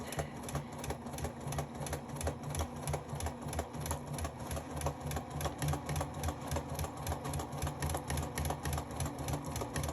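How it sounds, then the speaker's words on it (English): Sewing machine stitching a side panel seam of a bag, a continuous fast rhythmic mechanical whir and needle clatter running steadily throughout, close and alone. "I'm going to pivot and I'm going to sew straight up until I reach where I need to pivot again."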